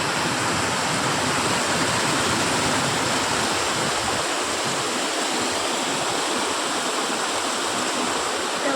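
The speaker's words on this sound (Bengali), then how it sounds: "এটা হচ্ছে জিপলাইন ফলস।" Rushing water of Zipline Falls, with glacier meltwater flowing nearby, pours as a steady, dense roar that stays loud and unbroken throughout, with no voices.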